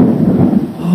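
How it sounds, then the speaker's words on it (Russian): Thunder during a thunderstorm rolls as a loud, deep, continuous rumble close by, with no voices over it. "О, гром какой."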